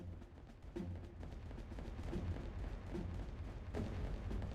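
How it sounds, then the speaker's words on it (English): Artillery in the Rise of Nations strategy game: a continuous rumbling barrage with scattered booms and sharper cannon reports, moderately quiet and dense throughout. "The power of having good artillery."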